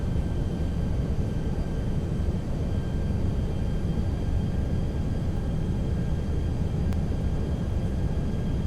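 Toliss A319 airliner in the X-Plane 11 flight simulator on approach, a steady broadband engine and airflow roar holding at an even level with faint tonal whines above it.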